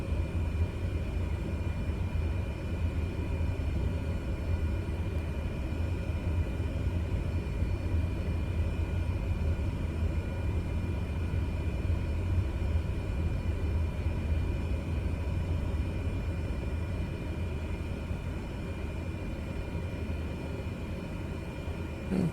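Small airplane taxiing toward the end of a runway before takeoff, a steady low engine rumble and drone that holds constant throughout, with no talking.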